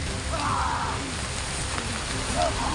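Heavy rain pours down in a dense, steady roar. Voices call out now and then above the downpour.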